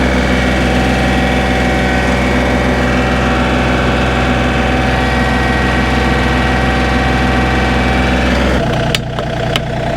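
A small tractor's engine runs steadily as it pulls a plow through the ground, a loud continuous mechanical drone that shifts abruptly near the end with a few clattering knocks.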